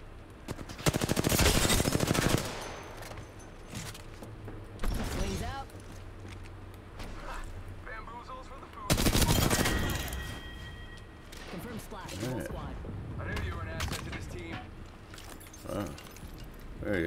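Rapid automatic gunfire from Apex Legends duos combat crackles in loud bursts, with shorter volleys and scattered shots between them. A player talks over the shooting.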